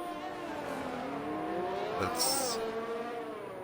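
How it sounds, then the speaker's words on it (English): A race car engine in an Xbox racing video game, lapping a Brazil circuit, revs hard and high with a steady, sustained whine. It swells briefly near the end and carries under a single spoken word. "Going really high on those revs."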